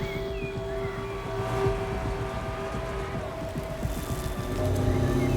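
Warthog vehicle engine from the video game Halo Wars 2, a steady, low, rumbling drone with a sustained whine, continuous and moderately loud throughout with no speech.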